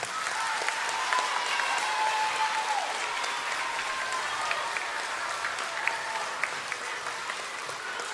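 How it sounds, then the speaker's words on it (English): Applause from a crowd at an elementary school end-of-year assembly, steady moderate clapping that carries on evenly throughout with a faint voice briefly present. "Please give them a round of applause."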